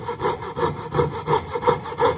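A hand saw cuts through wood in a steady back-and-forth rhythm of roughly seven strokes, close and alone with no talk.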